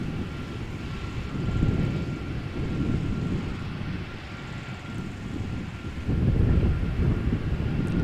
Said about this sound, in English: So this is Silkway West, flight 321, Boeing 747-400, going to London Stansted.